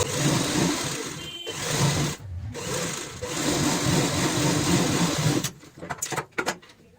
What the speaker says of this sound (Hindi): और इस बार हम इस साइड से सिलाई लगाएंगे।